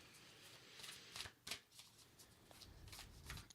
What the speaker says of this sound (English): I'm going to shuffle the cards, and here we go.